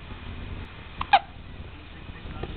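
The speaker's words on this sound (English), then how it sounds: "do you have the hiccups?" A two-week-old newborn boy gives a couple of soft, brief hiccups, close but faint, separated by a quiet pause with a low room hum underneath.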